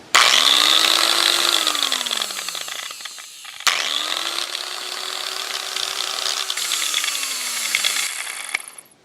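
Hitachi G12SA angle grinder running after fresh gear lube, spinning up loud and close with a whirring motor and some gear noise, winding down, then starting again and running for several more seconds before a final stop.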